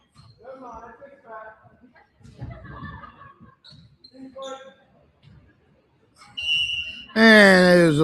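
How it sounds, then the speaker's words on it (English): A referee's whistle sounds during a boys varsity high school volleyball match between the Westerly Bulldogs and Chariho Chargers, a loud sustained shrill blast near the end, after stretches of commentary and gym noise. "And there's a whistle."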